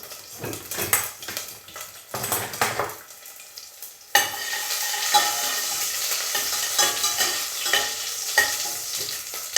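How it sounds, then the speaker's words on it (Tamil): Garlic is sautéed in a pan for a spicy Sri Lankan drumstick curry: a few seconds of scraping spatula strokes, then a continuous close, bright sizzle with faint stirring scrapes. "சேர்த்துட்டு ஒருக்கா வதகி கொள்ளுவோம்"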